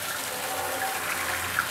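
Hot water gushes in a steady, continuous stream from a gas water heater after its scale was cleared with a vinegar treatment, a constant rushing flow with no talking.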